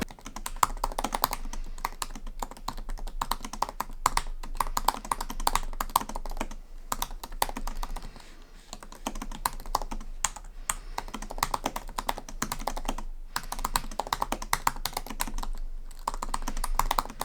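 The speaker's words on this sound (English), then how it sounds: "you're typing away as fast as you can, then you're probably going to be hitting the keys pretty hard" Rapid, continuous typing on a 2017 MacBook Pro second-generation butterfly-switch keyboard: dense, crisp key clicks with brief pauses, close and fairly loud, no talking.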